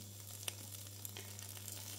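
Migliacci batter with cheese cooks gently in a frying pan, giving a soft continuous sizzle with faint crackles and a steady low hum underneath, no voices.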